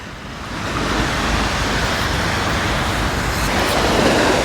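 Calm sea waves wash steadily onto the Chornomorsk shore, a continuous broad rush of surf close by with no voices.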